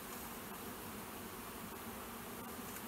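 Steady buzzing of many bees, a continuous droning swarm close by with no talking.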